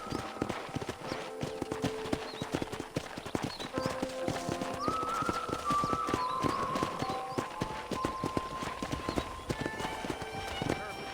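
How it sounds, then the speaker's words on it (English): Horse hooves clip-clop steadily at a trot in the PC remaster of Red Dead Redemption while touring a ranch, continuous and fairly close, with a voice and soft melodic game tones over them. "I picked out a fine horse for you. Giddy up!"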